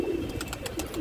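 A kagzi pigeon with a ring on its leg coos softly and close by, a few low throaty pulses in about a second, with no talking.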